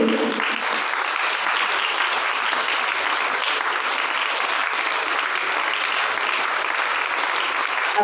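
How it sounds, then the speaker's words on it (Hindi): An audience at a Rajyoga meditation camp in Panipat claps continuously, a dense even applause that stays loud and steady the whole time. "सभी ताली बजाते रहिए।"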